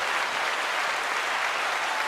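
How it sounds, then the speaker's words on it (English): Dense, even applause-like clapping by podcast hosts holds steady for a couple of seconds with no voices on top. "I have to do the hand clapping at the same time."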